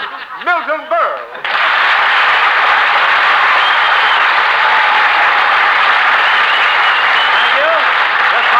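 A brief voice with laughter gives way to loud, sustained radio show studio audience applause that swells suddenly and continues as a dense, steady roar of clapping.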